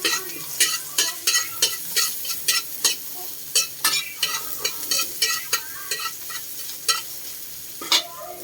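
A spoon stirs and scrapes rhythmically in a pan while onion, tomato, garlic and ginger sauté with a soft sizzle underneath, the clinks close and regular.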